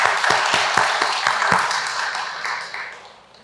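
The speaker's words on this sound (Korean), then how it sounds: "그 은혜 감사해서 우리 하나님께 영광 박수를 올려드리겠습니다." A church congregation at a Sunday service applauds in thanks, a burst of many hands clapping that starts strong and gradually tapers away.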